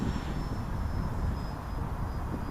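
A Hobbyking F4U Corsair radio-controlled warbird model airplane flying overhead with extra throttle, a steady continuous electric motor and propeller drone at moderate distance, holding level throughout without pauses.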